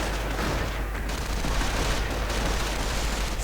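Anti-tank guns firing in a World War II strategy video game, with a dense, continuous barrage of gunfire and booms, loud and steady throughout without talking.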